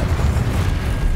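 A fiery Incendio spell cast in the game Hogwarts Legacy, a loud rushing burst of flame with a rumbling boom that roars through the short moment without voices.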